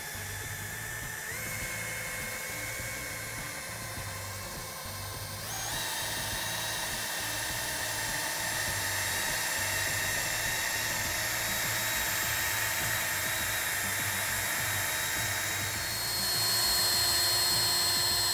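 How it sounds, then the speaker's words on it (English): A handheld drill fitted with a polishing pad spins Adam's Polishes swirl and haze remover over car paint, a loud continuous high whine whose pitch steps up twice and rises again near the end, running steadily without speech. "I'm going to securely hold the drill."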